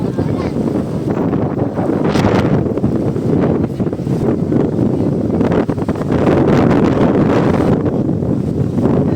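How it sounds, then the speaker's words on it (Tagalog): Strong wind roars and buffets the microphone in heavy, continuous gusts, loud and close, in Laurel, Batangas. "Oh my gosh, ang lakas ng hangin"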